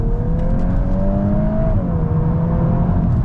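A VW Golf R MK8 accelerates at full throttle in sport mode on a wet road, its engine note climbing steadily in pitch with a brief dip at a gear change, loud and continuous from inside the car.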